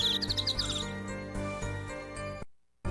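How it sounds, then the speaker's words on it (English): Bird chirps from the video game Apollo Justice: a quick run of high, bright tweets in the first second, set over sustained tonal game music that continues after the birds fade. "I'm having a hard time focusing on this right now with these birds."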